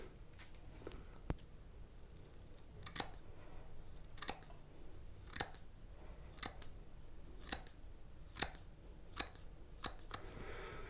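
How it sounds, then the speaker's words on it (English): Sharp scissors trimming the front of a short beard and mustache, about ten crisp, close snips spaced a second or so apart over quiet room tone. "I'm going to trim a little off the front of my beard"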